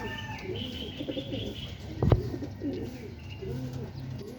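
Pigeons coo softly in repeated low, rolling phrases during racing-pigeon training in Tarlac City, accompanied by a single sharp flutter or clap near the middle over faint outdoor background.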